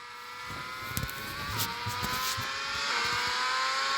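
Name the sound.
McLaren F1 car engine onboard, from an F1 racing video game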